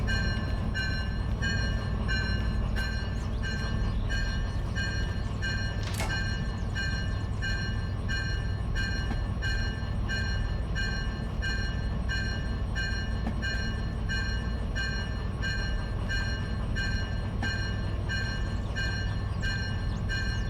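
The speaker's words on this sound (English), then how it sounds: "This is a diesel-electric locomotive." Diesel-electric locomotive, an EMD-type road engine with a G16 motor, running in the train simulator game Derail Valley: a steady loud engine drone with a constant whine, rumbling on unchanged throughout.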